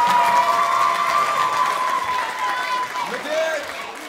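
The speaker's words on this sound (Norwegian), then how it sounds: "så alle kan gi en stor applaus for det." A revue audience at a Norwegian high-school graduates' show applauds and cheers steadily throughout, with voices shouting and whistle-like tones rising above the dense clapping.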